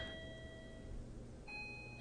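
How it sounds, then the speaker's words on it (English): A doorbell chimes indoors in two tones, one sustained note giving way to a second, higher ring about halfway through, steady and clear against a quiet room with no talking. "someone's ringing the doorbell"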